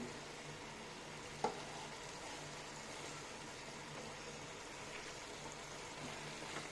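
Chicken masala, chili powder and salt frying in a pan give a faint, steady, even sizzle throughout, with a single light utensil clink early on.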